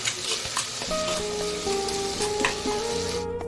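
Tomatoes fry and sizzle in a pan of garlic kuzhambu, a steady close crackle with brief stirring scrapes and no talking.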